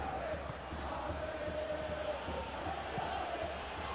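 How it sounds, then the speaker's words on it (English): Stadium crowd in the football video game PES 2021, a broad steady roar of applause and murmur that carries faintly at an even level throughout, with commentary voiced over it. "Crowd appreciates good football all round there."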